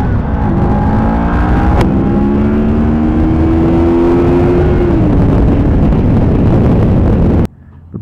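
Motorcycle cruising on a Colorado highway, a steady loud engine drone with a falling pitch sweep and constant wind rush, no talk.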